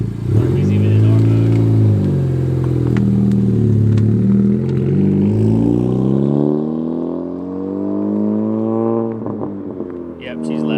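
Honda Civic Type R FK8 fitted with an AWE Track exhaust drives by loudly, its engine note rising and falling through revs with a deep droning tone, while people talk over it nearby.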